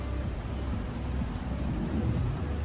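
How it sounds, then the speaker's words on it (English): Heavy rain with thunder pouring down on a road during driving: a steady, loud, low rumbling downpour that fills the whole stretch without a break, with no voices. "In very heavy rain,"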